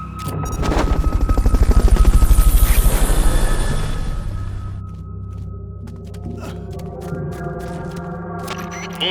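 A helicopter in the video game Metal Gear Peace Walker passes close with loud, rapid rotor chopping that swells and then fades into a lighter steady whir amid scattered game sound effects.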